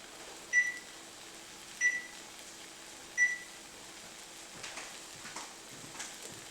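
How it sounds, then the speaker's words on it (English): Kitchen timer being set next to a Dash Mini waffle maker, three sharp evenly spaced beeps about a second apart, followed by faint softer clicks and a low background hum. "I'm just going to put the timer on now."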